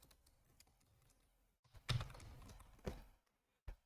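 Keystrokes of a git command to delete a branch tapped out on a computer keyboard, a soft patter of light clicks, then a pause and a few louder, sharper presses near the microphone.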